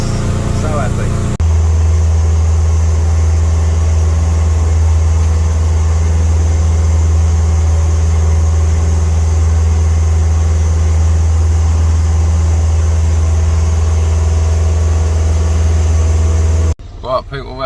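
A car engine idles with a steady low drone inside the vehicle, constant and fairly loud, cutting off abruptly near the end.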